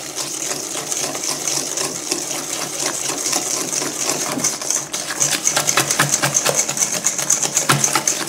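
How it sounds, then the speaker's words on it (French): Sugar being mixed into a batter for a Breton shortbread with pastry cream, a fast continuous clicking and scraping of a whisk or utensil against a bowl, close and busy, with no one talking. "Bien mélanger."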